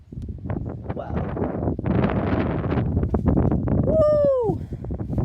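Strong gusty wind buffets the microphone in loud, uneven roaring bursts outdoors on a warm day, with a person exclaiming and a brief rising whistle-like tone near the end.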